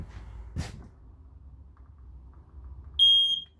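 After a quiet stretch with a brief soft thump, a single loud, shrill beep from a smoke detector being tested sounds close by near the end.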